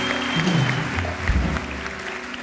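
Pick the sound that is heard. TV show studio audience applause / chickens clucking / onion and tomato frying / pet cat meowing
TV show studio audience applause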